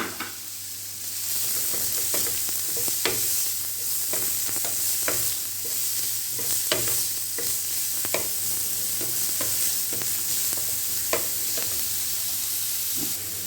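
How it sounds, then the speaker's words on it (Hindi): Onions fry in a pan under a continuous sizzle, while a utensil scrapes and taps through them in repeated, fairly regular stirring strokes. "प्याज हमने 1 मिनट के लिए भून लिए हैं"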